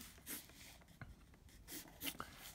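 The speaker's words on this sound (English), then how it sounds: "Let me just draw it out so you can see it." A metal fountain pen with a cracked nib drawing on paper, giving faint, close scratchy strokes in short irregular bursts with pauses between them.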